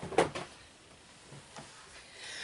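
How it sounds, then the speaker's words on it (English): A drawer is pulled open in a craft room, giving a short sliding scrape and light knock near the start, followed by faint small rustles. "If I open the right drawer"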